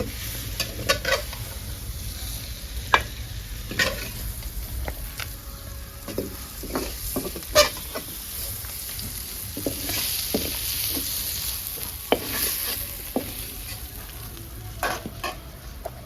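Papaya and soybean vegetable sizzles steadily in a pan as a Bengali vegetarian dish cooks, with a spatula scraping and stirring in irregular bursts, close and fairly quiet, with no talking.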